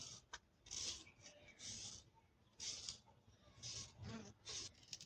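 Peeled radish being rubbed against a hand grater for chutney, giving repeated rasping strokes in an uneven rhythm, close and fairly quiet, with no talking.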